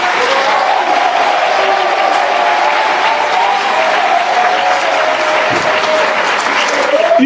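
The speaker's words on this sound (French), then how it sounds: "Et je voulais qu'on applaudisse le candidat Ouaddomelo ici." A large crowd at a political rally applauds loudly and continuously, with sustained cheering and a held vocal tone running through the dense clapping.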